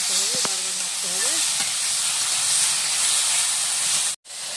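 Kalai greens with prawns hiss and sizzle steadily in a hot pan as they are stirred, a broad close frying wash with a few faint voice-like tones early on and a brief cutoff near the end.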